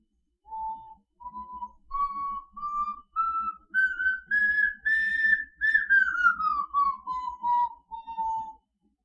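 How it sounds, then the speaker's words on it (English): A clear, pure whistle made from two syringes rises step by step through a series of pulsing notes, then glides back down, played alone and close. "Here is a completed syringe whistle. Let me show you how it sounds"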